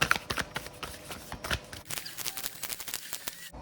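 Tarot cards are shuffled by hand up close, a quick run of papery riffles and soft slaps that stays quiet and uneven.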